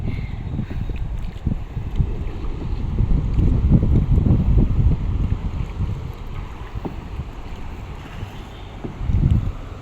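Gusty wind buffets the microphone during a boat crossing of a river, a low rumbling roar that swells and eases over a steady background hiss, with no voices.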